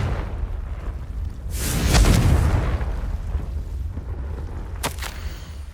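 A Confringo blasting spell goes off in Hogwarts Legacy with a deep, swelling boom that rumbles for a few seconds, followed later by a second sharp burst over a low game ambience.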